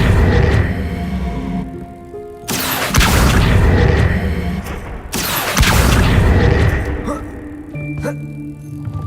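Spell effects for Incendio, Levioso and Accio in the game Hogwarts Legacy: two loud booming bursts with ringing, chiming tails, separated by a few seconds, with quieter game sounds in between.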